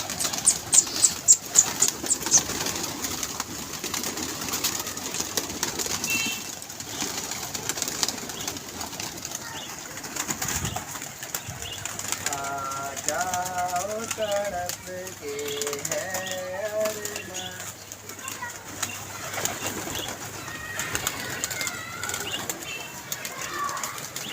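Pigeons at a pigeon club flap their wings in a sharp rhythmic burst at the start, then give soft, repeated cooing calls later on, all close by, with some background talk.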